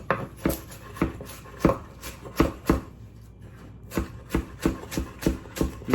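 A knife chops peeled onion into small pieces on a board, a close, steady run of sharp knocks with a brief pause midway before the chopping resumes.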